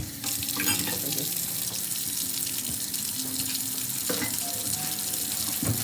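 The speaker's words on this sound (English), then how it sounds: "So let's rinse our crab off." A kitchen faucet runs steadily over crabs being rinsed in a sink, with a constant close hiss and splash of water, occasional clatter from handling the shellfish, and no talk.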